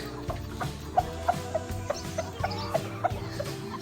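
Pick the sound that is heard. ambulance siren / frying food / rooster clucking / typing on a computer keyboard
rooster clucking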